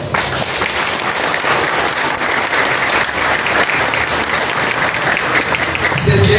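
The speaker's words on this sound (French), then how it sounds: "Je vous demande de les encourager avec vos applaudissements." At an art school graduation, an audience gives steady, dense applause that holds at full strength throughout, a crowd clapping loudly together without pause.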